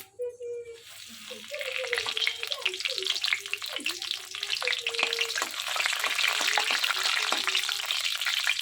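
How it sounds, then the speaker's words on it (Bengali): Whole cumin seeds and bay leaves sizzle steadily in hot oil for a potol dorma filling, a bright crackling fry that builds after the first second and continues, with a voice talking over the start. "তেলটা গরম হয়ে গেছে দিয়ে দেব গোটা জিরে তেজপাতা"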